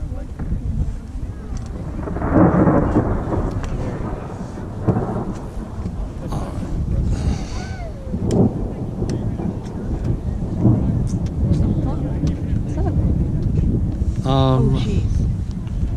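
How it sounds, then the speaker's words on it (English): A cold thunderstorm at Old Faithful in Yellowstone, with steady rain and heavy wind buffeting the microphone, deep rumbles of thunder rolling overhead, and people talking over it. "It's raining. Okay, that's it. And it's cold, and we got lightning directly overhead"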